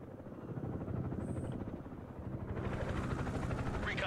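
Helicopter rotors thrum steadily through a Broken Arrow multiplayer battle, a continuous dense mechanical drone that grows fuller and louder partway through with no speech over it.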